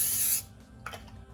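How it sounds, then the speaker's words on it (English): Short close hiss of cooking oil sprayed from a can onto the top of a sheet-pan quesadilla, lasting under half a second, then a few faint clicks and rustles. "just spray the top quick."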